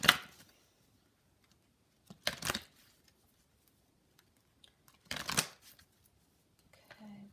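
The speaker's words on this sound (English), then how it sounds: "But I'm going to shuffle again for you." A Kipper tarot card deck being shuffled by hand in three quick riffling bursts separated by quiet pauses. The crisp papery flutter is close and clear, and a faint knock sounds at the end.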